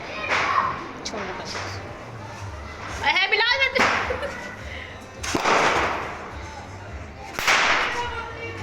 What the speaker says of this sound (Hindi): यहाँ पर पॉप वाले हम लोगों ने थोड़े से पटाखे फाड़े